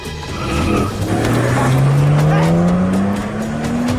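A car engine revs hard, its pitch climbing steadily while tires squeal loudly throughout, close and continuous.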